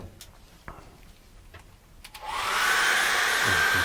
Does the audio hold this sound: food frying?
no